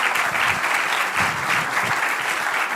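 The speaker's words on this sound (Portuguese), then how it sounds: "Uma salva de palmas para o painel." An audience at a customer experience panel event applauds the panel, a loud, sustained burst of clapping that fills the room throughout, with no talking over it.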